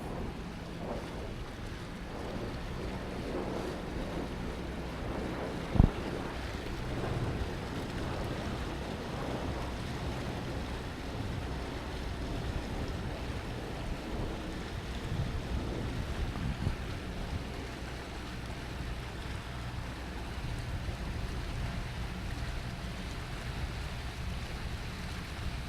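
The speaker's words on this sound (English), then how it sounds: "a little shot of light air scow sailing aboard the Shady Lady" An A-Scow sailboat racing in light air at a national championship: steady broadband wash of water and wind noise on the microphone throughout, with one sharp knock near the start.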